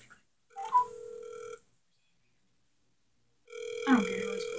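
A phone call rings over speakerphone: two electronic ringback tones, each lasting about a second, separated by a long silent gap and sounding clear and close.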